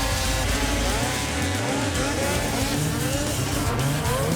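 Snowmobiles race in a Snowcross Adaptive event at X Games Aspen, engines whining loud and continuous as machines pass, pitch sliding up and down with revs, and no talking.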